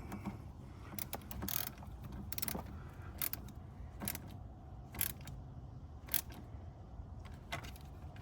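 Ratchet tightening a bolt while an alternator is refitted on a 2007 Toyota Camry with a 2.4-litre engine, heard as a series of short, sharp clicking bursts at a moderate distance over a low background rumble.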